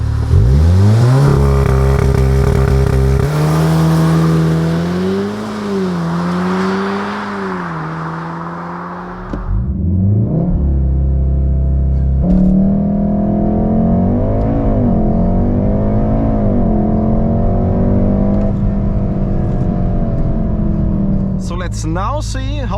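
A Cupra Leon 300 accelerates hard from 0 to 100 km/h on a country road, its loud engine note rising steadily through the gears with clear shift breaks, close and sustained throughout.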